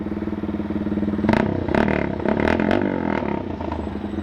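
A GPR250 motorcycle fitted with a new exhaust pipe runs up close, its engine note rising in several quick revs over a steady idle, with some metallic clatter mixed in.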